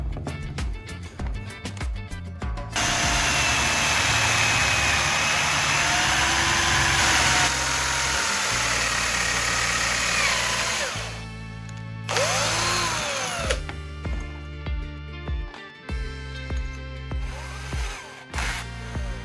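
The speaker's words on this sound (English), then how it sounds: "Next, I drilled a hole right down the center of the two wooden halves, following the previously marked center line." A power drill bores a hole lengthwise down the centre of two wooden halves, sounding loud and close as a steady whine that holds for about ten seconds and then breaks into shorter bursts and stops.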